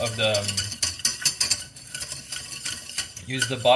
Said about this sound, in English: So you just want to mix everything together and use the bottom